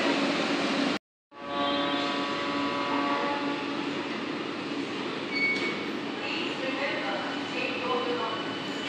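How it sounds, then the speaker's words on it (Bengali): Howrah–Belur Math local train 37117 pulling out of the platform toward Howrah: a loud, steady rolling roar with metallic whining tones, close by, with voices faintly under it. "ট্রেন আবার হাওড়ার উদ্দেশ্যে বেরিয়ে গেল।"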